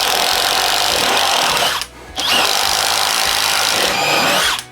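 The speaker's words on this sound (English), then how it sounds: "now we are going to be doing the 1/2" twist bit into a 2x4" A Bosch Freak impact driver bores a 1/2 inch twist bit into a 2x4: two loud, steady whirring drill runs one after the other, split by a brief pause.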